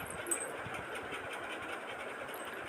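A sewing machine runs steadily without a break while stitching the seam of a Patiala salwar. It makes a quiet, continuous mechanical whir and rattle.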